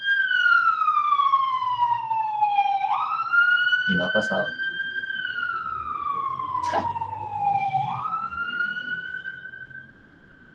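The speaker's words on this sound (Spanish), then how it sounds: "Oigan la ambulancia, les decía yo." An ambulance siren passes in the street, wailing in long rising and falling sweeps, loud and fairly near, then fading at the end, while a person speaks briefly over it.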